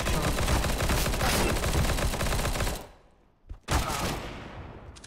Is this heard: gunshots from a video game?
yes